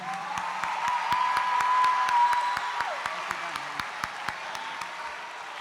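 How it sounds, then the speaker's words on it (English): Crowd applause at a school International Week opening ceremony, thanking speakers after an ambassador's talk; steady clapping swells toward the middle then thins into scattered claps, with a held tone and some talk underneath. "Let's give them a big round of applause and say thank you."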